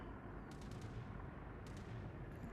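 Anti-aircraft guns fire rapid bursts at torpedo bombers in the World of Warships naval video game, faint and distant, with short clusters of shots over a steady background roar.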